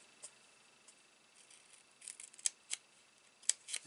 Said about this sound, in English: I'm going to grab my scissors and I'm just going to trim up